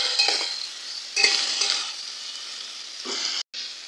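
Chopped tomato goes into a hot frying pan with potato and sizzles softly, with a few bursts of stirring and scraping close by and a brief clatter near the end.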